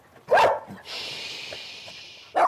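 Rescue dogs let out two sharp, close barks, one at the start and one at the end, with a thin high-pitched whine running between them.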